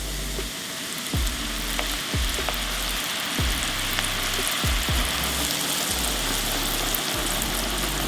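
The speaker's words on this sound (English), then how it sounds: "get your onions and drop them into the oil" Onions sizzling in canola oil heated to around 325 degrees for a Wagyu steak sandwich, a steady close frying hiss with occasional pops and bubbling, no voices.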